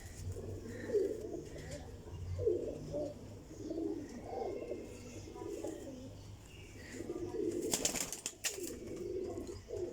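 Pigeons coo in repeated soft, low phrases, close by, with a brief rustle or flutter partway through and faint background hum.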